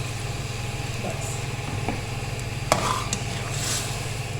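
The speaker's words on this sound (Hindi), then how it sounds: "अब हमने गोश्त को फ्राई करना है इसके अदरक लहसुन के साथ, और अच्छी तरह से फ्राई करना है।" Meat frying with ginger and garlic in a pot for restaurant-style degi chicken biryani, a steady sizzle with stirring scrapes throughout and a couple of sharper clanks near the middle.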